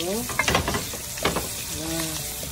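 Whole garlic cloves sautéing in a pan for soup give a steady, close sizzle and crackle of frying oil, with a few louder spits and stirring scrapes over the constant hiss.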